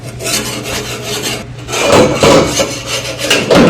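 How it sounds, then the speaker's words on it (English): A scraper blade scrapes residue off the bottom of a Duke broiler part in a sink, loud rasping strokes coming in repeated bursts, close and with no talking. "I'm going to take the scraper to it and scrape off the extra stuff on the bottom"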